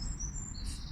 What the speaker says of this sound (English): the birds are chirping so loud I could barely hear like what I have to say sometimes